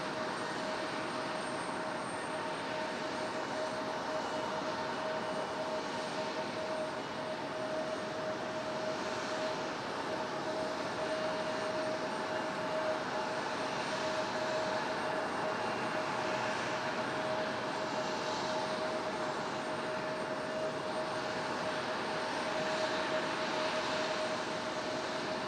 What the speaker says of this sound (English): Little Embraer E175.